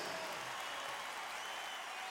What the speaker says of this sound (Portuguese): Eu queria uma salva de palmas para ele, Ari Gomes